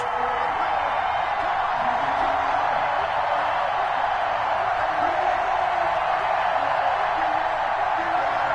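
A steady, dense stadium roar from a PS4 American football game, Las Vegas Raiders against Denver Broncos, rushes on without pause as a broad, constant wash of crowd cheering.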